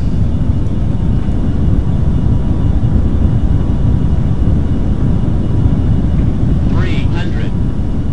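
Steady rumbling thruster roar from a DeltaGlider spacecraft during a lunar landing in a flight simulator game, loud and continuous throughout, with a brief faint voice near the end.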